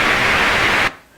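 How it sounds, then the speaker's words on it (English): White noise passed through a 2000 Hz low-pass filter hisses loudly and steadily for just under a second, then cuts off abruptly into near silence. "And so if we apply a low pass to that,"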